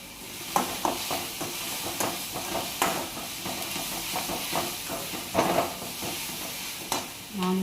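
Green chili paste and a little turmeric fry in a pan for a potato paratha mixture, giving a soft ongoing hiss and sizzle broken by intermittent clinks and scrapes of stirring.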